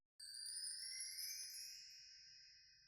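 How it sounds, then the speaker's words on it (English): A bright, shimmering chime rings out alone in a Logic Pro R&B beat, struck once and sustaining with a long, slowly fading tail, soft low rumble underneath. "Little chime, kind of sets the vibe."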